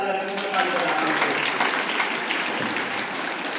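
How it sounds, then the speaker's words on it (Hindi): Schoolchildren applauding loudly in a school gathering, a dense, steady burst of clapping that carries on throughout with some voices mixed in. "जोरदार तालियां सभी बच्चों के लिए"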